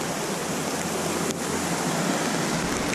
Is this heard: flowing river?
yes